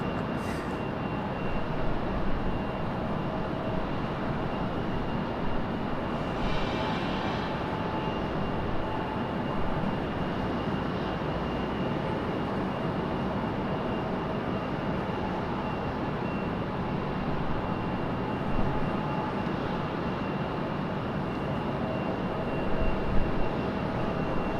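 A steady, even roar from an American Airlines Embraer E-175 jet taxiing at Raleigh-Durham International Airport, heard from a distance as a continuous broadband rumble with a faint constant whine and no clear breaks.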